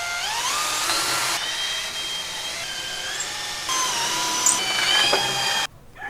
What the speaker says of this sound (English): So I'll start with the small drills and then take a bigger size after that.